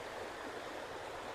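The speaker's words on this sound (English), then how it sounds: "There's nice flowing water here." Water flowing steadily in a stream at a shaded park spot, a continuous broadband rush that stays even and close throughout, with no voices over it.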